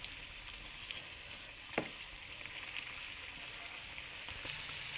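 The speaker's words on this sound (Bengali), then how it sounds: "তো একইভাবে আমি সমস্ত চপগুলো আজকে ভেজে তারপরে তোমাদেরকে দেখিয়ে দেবো।" Jackfruit chops fry in hot oil with a steady, even sizzle throughout, broken by a brief clink near the middle.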